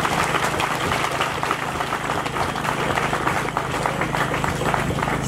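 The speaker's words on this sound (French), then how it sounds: "Vous demandez solennellement d'applaudir Monsieur le préfet et Monsieur Thierry Aouche." A crowd applauds at the official opening ceremony of a village fair, dense steady clapping lasting throughout, fairly loud and close with an engine hum underneath.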